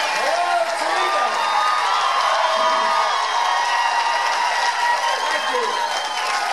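Large crowd cheering and applauding at a Joe Biden vice-presidential rally at the University of Toledo, a loud continuous roar of voices and clapping with scattered shouts, filling the whole stretch without pause.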